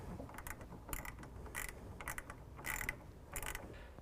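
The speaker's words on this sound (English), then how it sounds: "take our self-tapping screw and use this in our hole that goes through our rail and into our canister" A self-tapping screw is driven through a Ford F-150 truck bed rail into a tonneau cover canister, giving quiet, close, rhythmic ratcheting clicks and grinding bursts in quick succession.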